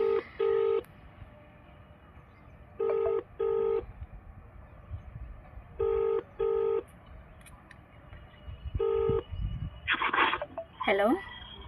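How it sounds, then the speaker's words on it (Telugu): Repeated paired beeps of a phone call ringing tone, a steady ringback pattern repeating at regular intervals, followed at the end by a brief burst of voices. "రింగ్ అవుతుంది."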